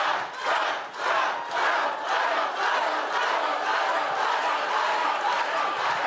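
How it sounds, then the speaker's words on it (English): Large crowd cheering and shouting at a political rally, a sustained loud roar that swells and dips in waves. "That's a nice crowd."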